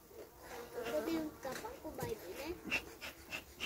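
Honey bees buzz close by in a wavering drone at a hive being treated and packed for winter, with a voice talking quietly underneath.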